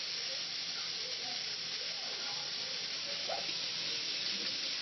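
Chicken pieces dumped into a large hot skillet set off a steady, even sizzling hiss that holds for the whole stretch, close and moderately loud with no voices over it.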